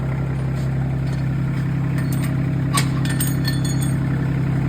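A T25 tractor fitted with a backhoe idles with a steady low drone, accompanied by faint metallic clinks and light rattles near the end.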